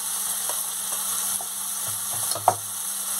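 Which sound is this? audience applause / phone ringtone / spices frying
spices frying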